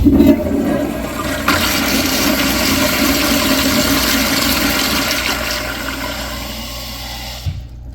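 A Kohler Wellcomme 1.6 gallon toilet flushes in one loud, steady rush of water lasting several seconds, then cuts off abruptly near the end with no voices.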